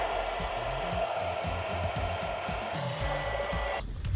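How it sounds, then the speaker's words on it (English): A hair dryer thawing a frozen waste tank gate valve blows with a steady, close whirring hum, cutting off abruptly near the end. "I gotta sit here with the blow dryer once again."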